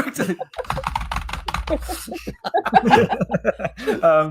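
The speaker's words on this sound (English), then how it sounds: "Good keyboard noises." Rapid keyboard clacking runs underneath people talking and chuckling, the keystrokes quick and continuous.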